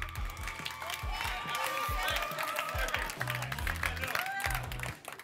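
An improv match audience at a Bol d'or tournament claps and cheers loudly over music with a thumping beat, and voices call out within the crowd noise.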